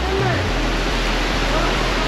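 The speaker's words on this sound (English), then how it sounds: "Look at the waterfall." Steady rushing roar of Teperu Falls at BK Quarries near Bartica, a broad continuous wash of falling water heard close, with faint low thumps underneath.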